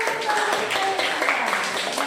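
Children clap together after reciting a prayer, a brief, steady patter of small hands filling the room at moderate loudness, with a faint voice underneath.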